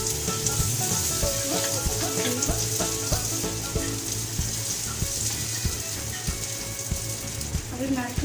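Butter melts with a little oil in a pan, crackling and sizzling steadily up close with a rapid popping texture throughout.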